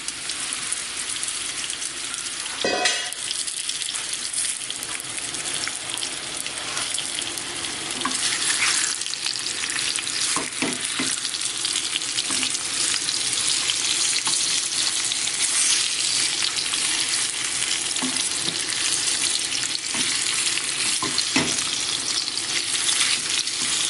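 Chicken and pork pieces coated in cornstarch stir fry in hot olive oil, a loud continuous sizzle with occasional sharper crackles and stirring scrapes, no talking.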